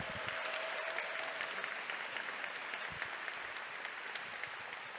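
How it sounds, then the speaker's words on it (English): An audience at a student project showcase day applauds: continuous, even clapping from a roomful of people, fairly soft and distant, holding steady for several seconds. "I want to give a huge round of applause to our awesome cohort"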